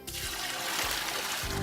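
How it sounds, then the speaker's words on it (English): Water pours and splashes steadily into dung in the mixing area of a farm biogas system, a close, continuous gushing rush. "and then pour our water."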